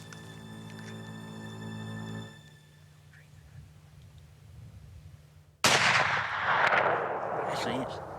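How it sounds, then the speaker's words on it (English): A muzzleloader rifle shot fired during an elk hunt in New Mexico: one sudden loud blast that cuts through a quiet outdoor background, followed by a long rumbling decay lasting several seconds. "the second shot may not have been possible with a muzzleloader"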